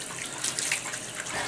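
Tap water runs steadily into a sink as hands are washed in a city courtyard garden, a close, continuous splashing hiss with small shifts in texture.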